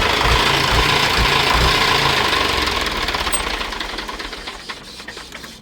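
An HMT 6522 60 HP diesel tractor with a front dozer runs with a steady knocking chug, loud at first, then gradually fading as it winds down.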